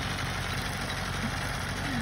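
A farm tractor runs while cutting hay with a sickle bar mower, giving a steady, continuous low engine drone at moderate level with no breaks.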